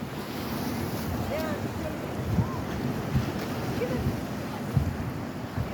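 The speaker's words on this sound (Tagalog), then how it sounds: "We're here at Center Island Beach." Waves and wind at Centre Island Beach, with steady surf wash and gusts buffeting the microphone, plus a few faint distant knocks and cries throughout.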